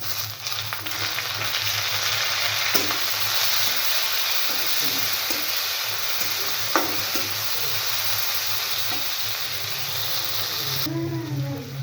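Crisp-fried ingredients stirred in a pan for a mashed red lentil dal dish as chopped tomato goes in, a steady close sizzle running throughout with scraping stir sounds, and a brief voice near the end.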